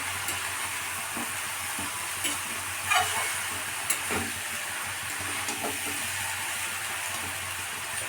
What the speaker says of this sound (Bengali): দেখো বন্ধুরা, এইভাবে কষিয়ে নিতে হবে ভালো করে।